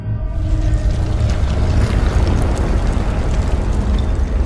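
A deep, continuous rumbling roar of an earthquake in Dragon Age, with crackling noise on top, steady and loud throughout, like heavy ground shaking.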